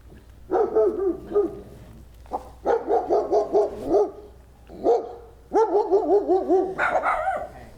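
Several dogs bark in repeated loud bursts, yipping and bow-wowing close by with short pauses between volleys and no talking.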